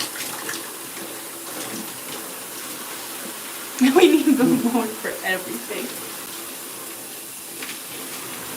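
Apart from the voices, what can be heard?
shower running water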